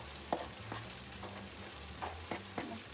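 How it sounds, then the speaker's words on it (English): Tamale filling of rajas and cheese sizzles gently in a pan while a utensil stirs and pokes it, giving a few soft scraping knocks over a low, steady frying hiss. "I'm gonna stir it a little bit,"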